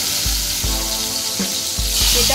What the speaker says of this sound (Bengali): এবারে বেগুনটা ভেজে নেব।